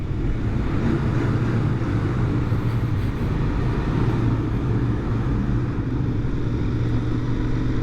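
A 2021 Royal Enfield Interceptor 650 motorcycle engine drones steadily while riding, a continuous low rumble mixed with wind noise, loud and unbroken.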